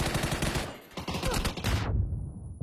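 Rapid automatic gunfire rattles through a PUBG PCL playoff match, loud dense bursts of shots that cut off abruptly near the end, leaving near silence.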